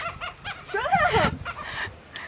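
Seagulls at Galveston squawk loudly and close by, a burst of overlapping raucous calls with one long laughing cry in the middle.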